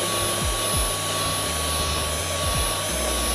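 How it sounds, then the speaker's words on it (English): A vacuum cleaner runs steadily over a honeycomb car floor mat, a loud constant whooshing drone with faint thumps as the nozzle moves across the mat. "it is much easier to vacuum the honeycomb mat"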